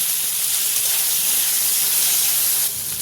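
Chopped tomatoes go into a hot pan of fried onions and set off a loud, continuous, bright hissing sizzle that drops slightly near the end.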